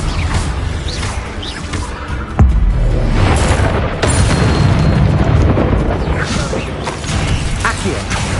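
Confringo fire spells from Hogwarts Legacy blast in repeated booming explosions with crashing debris over dense game combat noise, loud and continuous, while a voice calls out spell names.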